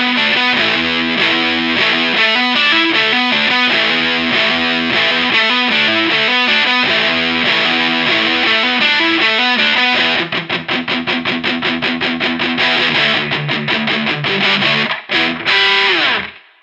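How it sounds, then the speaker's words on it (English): Heavily gained electric guitar riff through a Walrus Audio Fundamental distortion pedal on its dark mode, fat and fuzzy in a 70s style, playing loud and continuous chords before switching to choppy, rapidly stopped palm-muted chugs near the end. "Fundamental distortion I'm using here on the dark mode with quite a bit of gain boosted."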